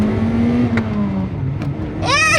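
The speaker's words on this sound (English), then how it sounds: "Here, let's do a first gear pull." Toyota Celica GT-Four pulling hard in first gear, the engine note climbing and rising in pitch, then a quick lift before another rising whine near the end, loud and close from inside the car, no talking.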